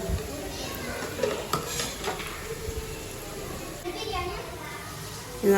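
Onions fry in a pan in a family home kitchen, a soft sizzle broken by stirring and clinks of pots, under nearby adult talk and children's voices.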